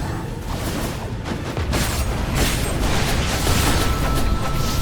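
Dense, loud explosions and booms in the action video game Skul: the Hero Slayer, a continuous barrage of rumbling blasts and bursts that swells slightly after the opening second.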